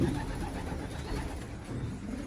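Pigeons cooing in a rooftop loft, soft low murmuring coos close by under a steady faint background hiss.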